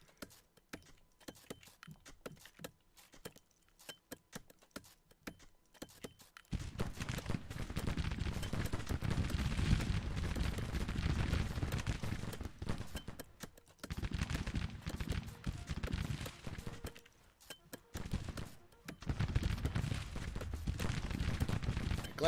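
Close-range 6-pounder cannon fire in the Civil War strategy game Grand Tactician, a dense, continuous roar of battle with repeated booming volleys and crackling gunfire after a quieter start, loud and sustained with brief lulls.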